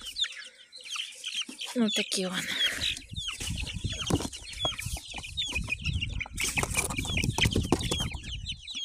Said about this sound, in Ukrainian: Ловимо курчаток.